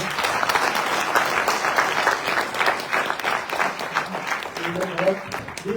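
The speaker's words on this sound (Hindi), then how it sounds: "इनके लिए जोरदार तालियां।" Enthusiastic applause for the host at a women entrepreneurs' panel discussion, a close, loud burst of many hands clapping that continues steadily, with a voice beginning to speak over it near the end.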